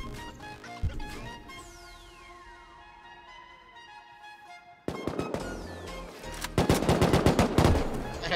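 Gunfire in the video game Rust: rapid automatic bursts and single shots crackle near and loud, with a lull and a sweeping tone in between before a dense, rattling volley at the end.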